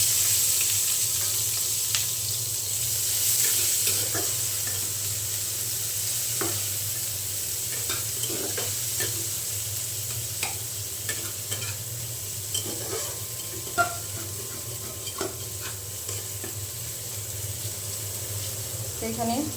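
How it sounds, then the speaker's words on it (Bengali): Sliced onion sizzles in hot oil in a pan after eggs were fried, for an egg-and-cucumber curry; a steady soft frying hiss runs throughout, broken by occasional light clinks and stirring scrapes. "এখানে পেঁয়াজটা ভাজা হইতে থাক"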